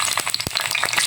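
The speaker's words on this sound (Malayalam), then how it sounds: "എണ്ണ ചൂടായി വന്നിട്ടുണ്ട്. വെളുത്തുള്ളി ഇട്ട് കൊടുക്കുക" Garlic hits hot oil in a pan, a bright continuous sizzle with a few soft stirring clicks, close and lively for about a second.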